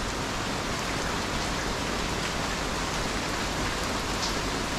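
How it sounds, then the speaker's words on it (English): Heavy rain pours down in a steady, dense roar in Thailand, loud and constant throughout with no pauses, as a thunderstorm arrives. "Heavy rain and thunder coming now."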